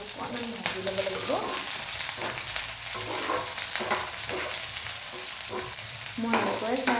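Egg with night jasmine flowers frying in oil while being stirred, giving a constant close sizzle with repeated scraping strokes and faint voice-like tones over it.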